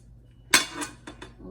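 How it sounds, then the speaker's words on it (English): Lid set onto a full pot of apples: one sharp metallic clank, then a softer knock and two lighter clinks as it settles, close and alone in a quiet kitchen. "So the pot is nice and full, and I'm gonna put the lid on it."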